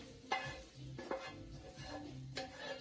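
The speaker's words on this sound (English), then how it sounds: "So my next step then is just to get this ground beef all browned" Ground beef browns in a hot pan, giving a soft continuous sizzle broken by a few scraping stirs of a utensil against the pan, quiet and close, with no talk.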